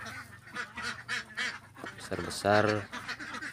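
Laying ducks on a duck farm give repeated nasal quacks and honks, close and fairly loud, with a louder burst near the end, mixed in with someone speaking throughout.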